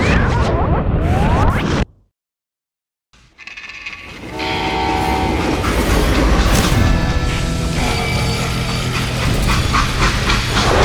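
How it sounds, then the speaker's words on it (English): A freight train in the video game Call of Juarez Gunslinger rumbles and clatters loudly, cutting to about a second of silence before the wheels and a long horn-like tone return at full volume. "They hopped a freight train having heard there was a big payroll in the express safe."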